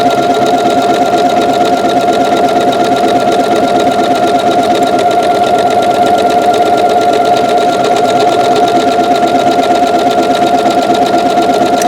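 A Janome sewing machine stitches a buttonhole with a loud, continuous rapid mechanical whir and needle chatter, steady and close throughout with no talk.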